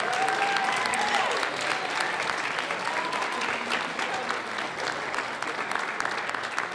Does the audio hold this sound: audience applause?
yes